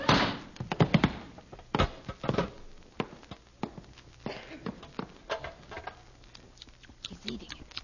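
Footsteps of someone approaching in the dark: an irregular run of soft taps and dull thuds, strongest and closest at first, then lighter and more scattered as they continue.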